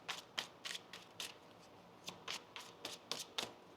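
A deck of tarot cards is shuffled in quiet, repeated bursts: a dozen or so short, crisp riffling flicks with small pauses between, close and fairly soft.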